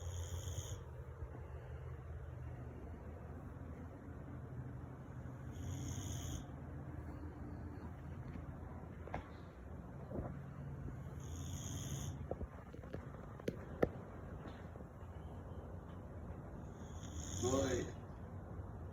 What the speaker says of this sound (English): He snores just like me.